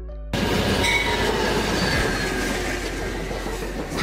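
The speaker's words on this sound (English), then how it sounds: "Passenger train, a general term for trains designed to carry people rather than goods." Passenger train running on rails, a steady loud rumble of wheels with squealing and rattling carriages, continuous from start to end with no voices.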